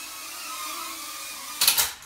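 Small KingKong 90GT ARF FPV racing quad's electric motors whine steadily at a distance as it zips and yaws around, then surge into a louder, harsher burst near the end as the craft swoops closer.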